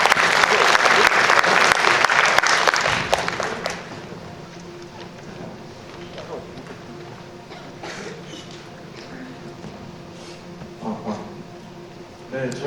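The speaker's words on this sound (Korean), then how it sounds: "큰 박수 부탁드리겠습니다." Loud audience applause at a student research presentation competition, sustained for about three seconds and then fading into scattered claps and low room noise.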